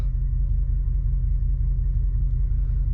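An Audi RS7 with newly replaced shocks is driven, giving a steady, loud low engine and road rumble that holds constant throughout with no talk.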